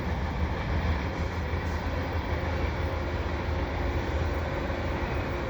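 A CN westbound freight train rolling past at the Dorval ramps on a sunny winter afternoon, a loud steady rumble and wheel roar filling the whole stretch without letup, no voices.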